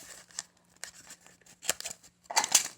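Scissors snipping weaving yarn at close range, a few quiet, separate cuts and crisp rustles in an otherwise quiet room.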